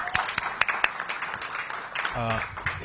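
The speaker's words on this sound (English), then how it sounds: "Let's give him a round of applause." A few scattered claps greet a school principal at Cardozo Education Campus, fading quickly as a speaker keeps talking.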